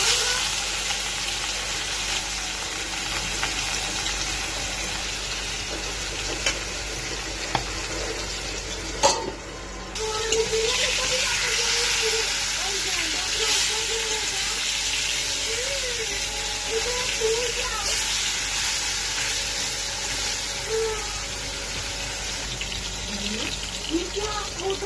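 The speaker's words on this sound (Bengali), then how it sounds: "সবজিগুলো ভেজে নিয়েছি, আর মাছটা ভেজে নেব।" Rohu fish fries in a pan with a continuous bright sizzle and crackle, a spatula occasionally scraping and stirring, while a voice talks nearby in the background.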